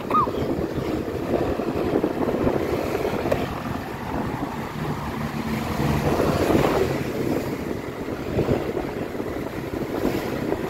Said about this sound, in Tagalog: salubong mo na hangin, may mga buhangin